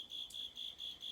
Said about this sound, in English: Oh my gosh, the cricket, the cricket.